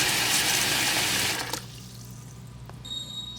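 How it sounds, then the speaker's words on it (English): Water gushes from a tap into a bucket for curing Arbequina black Spanish olives, a loud rushing fill that stops abruptly about halfway, leaving a quiet room with faint drips and a brief clink. "This bucket has been filled with water."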